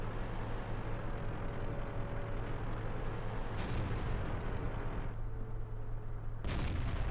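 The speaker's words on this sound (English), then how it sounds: "we're popping shots into these tanks that are trying to cap" Tank cannon shots in the video game World of Tanks (Tog II), a few booming reports spaced several seconds apart over a constant rumbling engine drone.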